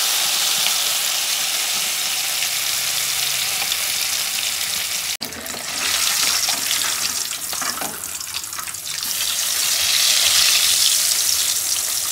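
Fish sizzling as it fries in hot oil in a wok, Telangana-style fish fry, a steady loud hiss and crackle running throughout, with a brief sharp click midway and the sizzle swelling again near the end.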